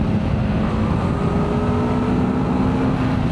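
2026 BMW F450 GS adventure motorcycle engine revving on a ride, a loud continuous buzzing drone with a steady, slightly rising tone, no talking over it.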